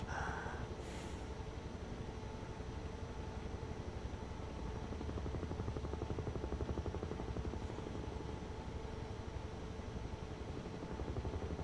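A Bell UH-1 Huey helicopter flies on a snowy Colorado aspen flight, its steady rotor thump and turbine whine droning loudly and continuously throughout without talk.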